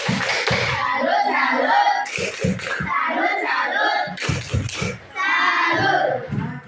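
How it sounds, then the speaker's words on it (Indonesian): Children at a school class session clap out the rhythmic 'tepuk salut' routine together, bursts of patterned hand claps mixed with their chanting voices, fairly close and loud. "Tepuk salut dulu. Tepuk salut."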